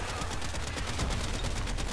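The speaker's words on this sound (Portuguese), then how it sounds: "Vou dar um tiro aqui" Rapid gunfire from a weapon in the video game Warframe, a fast burst of repeated shots running continuously and close up with no talking.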